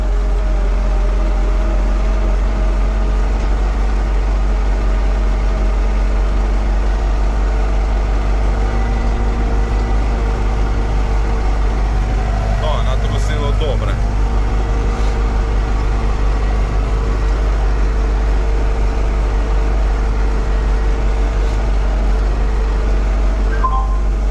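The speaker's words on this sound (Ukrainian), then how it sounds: "а той трактор, що завели, зараз поїде на другу там вулицю." A heavy MTZ-80 tractor engine idles steadily for the whole stretch, a constant low rumble with a slight rise in the middle, no voices.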